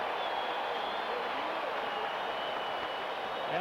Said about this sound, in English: And the crowd's getting into this.